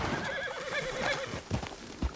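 A horse in the video game Red Dead Online whinnies several times in wavering bursts over steady clip-clop hooves and busy game ambience, with a few heavier thumps near the end.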